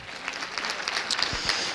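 A church congregation claps together during a Sunday morning service, a short burst of scattered hand claps from a room of worshippers with a few sharper individual claps standing out.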